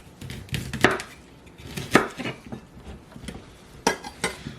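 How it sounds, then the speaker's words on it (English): A knife cuts the stem out of a medium head of cauliflower on a board, a handful of sharp, close chopping thuds and crunches spaced irregularly over a few seconds, with no talking. "we cut out all that stem"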